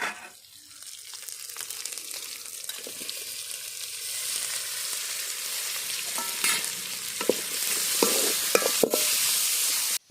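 Tomatoes and green chilies fry and sizzle with ginger-garlic paste in a hot pan while being stirred, a steady close hiss broken by scraping stir strokes that grows louder toward the end.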